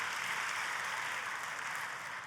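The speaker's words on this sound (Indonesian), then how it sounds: "Tepuk tangannya yang paling meriah buat Tuhan kita." A church congregation claps together, a dense and steady wash of applause that fills the room from start to finish without any clear voices on top.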